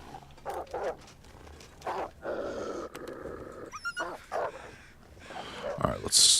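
Wolves in the survival game The Long Dark bark, yip and growl in repeated short bursts, with whimpering snarls and a final sharp yelp, fairly close and loud among other game noises.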